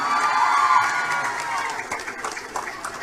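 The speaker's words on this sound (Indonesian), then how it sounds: "Tepuk tangan untuk Nikita Mirzani." A crowd at a religious gathering cheers and applauds loudly, with shouting and whoops over steady clapping, fairly close and continuous throughout.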